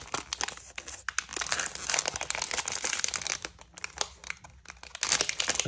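Plastic and cardboard packaging on a Pokémon Évolution à Paldea card box crinkles, tears and crunches in dense, continuous bursts, loud and close, with no talking.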